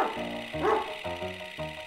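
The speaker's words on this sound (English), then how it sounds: "I hear Sheppy barking" A dog barks outdoors in the woods, a few short distinct barks spaced about half a second apart, moderately distant and fairly faint, with no talk.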